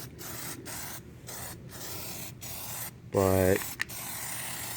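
Plasti Dip sprayed onto a car grille from an aerosol can in a series of short hissing bursts separated by brief pauses, close and fairly loud, with a brief spoken word.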